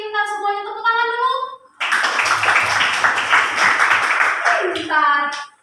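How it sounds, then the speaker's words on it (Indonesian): Schoolchildren in a primary classroom clapping together, a burst of dense, lively applause lasting a few seconds, preceded and followed by a teacher's voice. "Tepuk tangan dulu."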